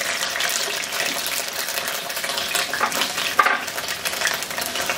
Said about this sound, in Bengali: আমি চুলায় 2 টেবিল চামচ সরষের তেল গরম করে ওর মধ্যে 3টা আলু প্রতিটা 4 টুকরা করে কেটে রাখছি